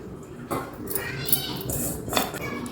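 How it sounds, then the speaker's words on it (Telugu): Washed poha (flattened rice) tipped into a bowl of curd, with soft wet clatter and a couple of scraping knocks against the dish, close and moderately loud, over faint background noise. "ఇప్పుడు మనం ఈ కడిగి పెట్టుకున్నాం కదా అటుకులు అవి ఇందులో వేసేద్దాం"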